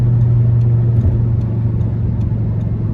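A 2010 Audi R8 V10 Quattro cruises with a steady, loud engine drone heard from inside the car, a constant low hum with faint ticking over it and no speech.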